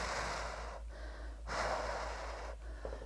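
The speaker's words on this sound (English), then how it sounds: "I'm gonna hold and breathe." Heavy, effortful breathing while holding a resisted exercise position: loud rasping inhales and exhales, close to the mic, in a steady rhythm broken by a couple of brief pauses, with no talking.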